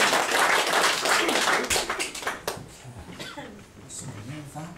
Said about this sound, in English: Give him a round of applause as he makes his best work.